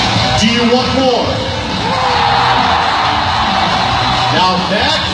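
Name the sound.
crowd cheering and yelling at a motocross show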